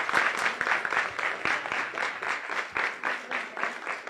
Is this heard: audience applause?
yes